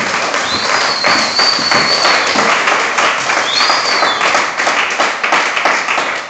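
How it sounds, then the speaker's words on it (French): Church congregation applauding for the word of the Lord, dense sustained clapping from a large crowd filling the room, with a high whistling tone rising briefly above it twice. "On acclame pour la parole du Seigneur"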